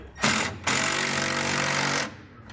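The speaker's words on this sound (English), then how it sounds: "We'll use a 13 millimeter socket and wrench to snug these down." Power tool whirring as a 13 mm socket snugs down bolts on a SuperSprings suspension stabilizer being fitted to a 2016 Chevrolet, two close, loud bursts, a short one then a steady two-second run.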